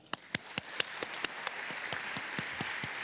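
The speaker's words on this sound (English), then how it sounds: "Really a huge round of applause to everybody." Audience applause at the close of a conference, thanking volunteers, catering, logistics and technical crew. Sharp claps come in a steady rhythm over a soft bed of scattered clapping, fairly quiet and distant, with no voices.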